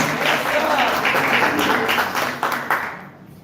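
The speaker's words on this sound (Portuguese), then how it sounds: "Isso, aplaude a Deus" A church congregation applauding during a service, sustained clapping from many hands filling the room, thinning out toward the close.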